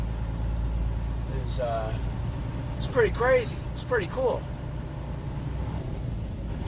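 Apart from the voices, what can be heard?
bobtail truck driving through an underground garage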